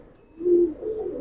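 A pigeon gives a short, soft, low coo close by, a single brief call in a quiet loft setting.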